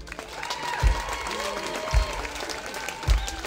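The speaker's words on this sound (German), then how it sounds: "Und nochmal ein Applaus für Tiana" Concert crowd applause for a soul band at an outdoor venue in Braunschweig, sustained clapping and whooping with heavy low thumps and voices mixed in.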